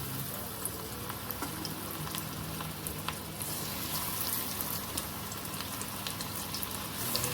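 Bottle gourd pakoras fry in hot oil over a low flame, giving a faint, even bubbling sizzle with light crackles and occasional soft taps.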